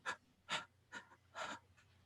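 A voice imitates panicked breathing with five quick, ragged gasps in an uneven rhythm, close and fairly quiet.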